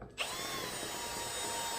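A power drill whines steadily at a high pitch after a brief quiet start, running without a break.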